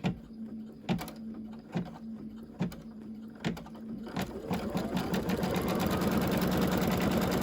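An embroidery machine stitches down a fabric coaster with puffy foam, first with evenly spaced thumps about a second apart, then breaking into a fast, continuous whirring stitch run, close and loud, without speech.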